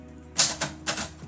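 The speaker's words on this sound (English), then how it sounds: "I'm going to jump back onto the typewriter here." Typewriter keys struck during a live typewriter poetry session, a few sharp close-up clacks in quick, uneven succession with no talking.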